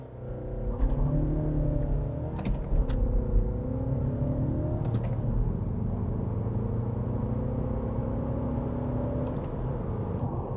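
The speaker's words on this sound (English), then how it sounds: "I'll just rev its nuts off and see what it does." A Mini Cooper SD with the B47 diesel engine revved hard, a loud, near drone climbing and falling in pitch over several surges with a few sharp clicks, then holding a steady high note.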